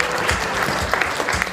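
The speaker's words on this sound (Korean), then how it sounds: "큰 박수 좀 부탁드리겠습니다" A large audience at a Korean web awards ceremony applauds steadily, dense continuous clapping filling the hall without voices.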